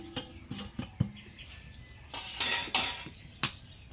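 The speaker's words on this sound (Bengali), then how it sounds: "এখন ঢাকা দিয়ে দেবো।" A lid set on a pot of simmering shankar fish curry, several close metallic clanks and taps followed by a brighter rattling clatter of metal settling, with scattered knocks in between.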